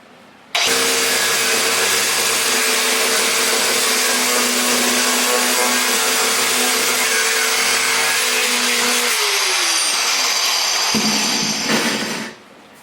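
A power saw cuts ceramic tile already laid in place, a loud steady high-pitched whine running for about eleven seconds before winding down, with no talking.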